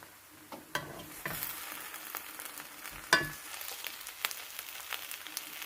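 Cooked shrimp with spring onion, Thai celery and Western celery being stirred in a pan, a soft steady sizzle with scattered scrapes and clinks of the utensil, close and moderate, with one sharper knock midway.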